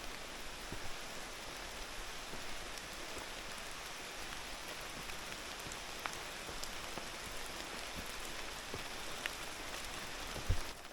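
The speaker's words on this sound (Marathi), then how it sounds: "पावसाला एकदा पुन्हा सुरुवात झालेली आहे" Steady rain falling on surfaces in the Satpura hills near the Umbardev cave temple, a dense even patter with scattered louder drops, no voices.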